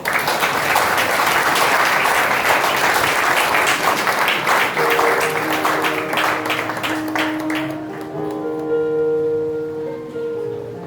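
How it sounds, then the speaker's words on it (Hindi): A church congregation at The Shepherd Church Malta claps loudly together, a dense wash of applause that thins out in the second half as sustained tones, likely a keyboard, emerge underneath. "एक बार जोर से ताली बजाएं"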